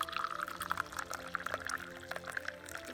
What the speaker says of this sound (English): Now let's pour tea from our tea press cup.